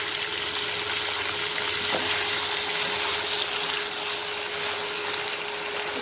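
Masala frying in a little oil in a pan for a traditional mango curry sizzles steadily and close, a continuous hiss with a brief stir-like knock partway through.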